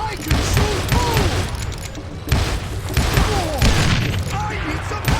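Gunshots in the western shooter Call of Juarez Gunslinger, repeated booming shots in irregular bursts amid game noise, with voices talking over them.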